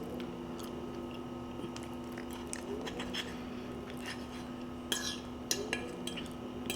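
Someone eating cheesy creamy chicken tortilla bake topped with sour cream, with soft close chewing under faint cutlery clicks against a plate and a low steady room hum.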